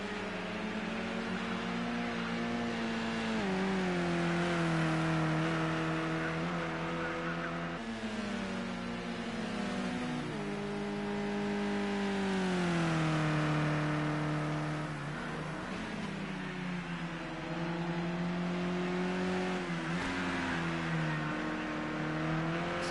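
A touring race car's engine drones loud and continuous through a lap of the Sakitto GP circuit in a sim racing game, its pitch rising and falling with each shift and corner.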